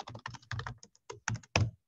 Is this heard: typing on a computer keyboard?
yes